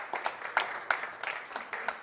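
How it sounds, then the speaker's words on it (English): Scattered light applause from a small audience for a volunteer at a magic show, a few seconds of soft, uneven clapping heard from a distance. "A nice round of applause for Mr. Gertin Bloom."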